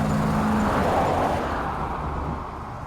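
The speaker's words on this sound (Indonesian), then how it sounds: "Mobil yang berada di belakangnya terus mengejar" A car engine roars past in a film chase, one vehicle pursuing another, loud and close at first and then fading slightly as it moves off, with no voices.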